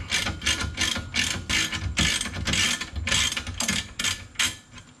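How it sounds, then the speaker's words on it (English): A socket wrench ratchets a nut off the upper ball joint of a 2006-2012 Ford Fusion during a CV axle job, giving close, loud, steady bursts of rapid clicking strokes with brief pauses between, no talking. "Now I'm just going to take a socket wrench and back the rest of this guy off."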